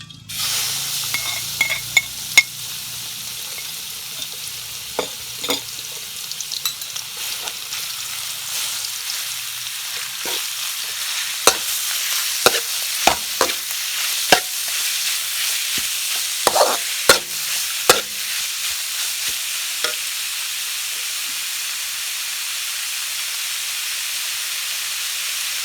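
Pounded pork spice paste frying in hot oil in a pan, a steady bright sizzling hiss throughout with scattered clicks and scrapes of a stirring utensil, close and continuous.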